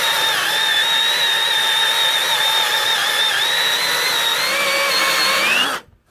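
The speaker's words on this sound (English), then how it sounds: "Now that you've got that drilled out on both sides" A power drill whines steadily at high pitch while drilling out old suspension bushings on a DSM car, loud and close for several seconds before abruptly stopping.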